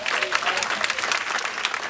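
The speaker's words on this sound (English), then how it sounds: "Clap if you agree" A comedy audience claps loudly and continuously, a dense burst of applause with some cheering mixed in.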